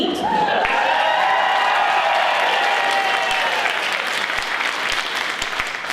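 An audience on its feet giving a standing ovation at a vaudeville show, loud sustained clapping with cheers and whoops rising over it, close and full.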